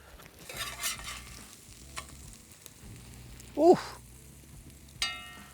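A carnivore costra taco sizzles in a frying pan with a soft, steady crackle, then gets flipped with a sharp scrape and a fresh burst of sizzle; a brief exclamation is heard.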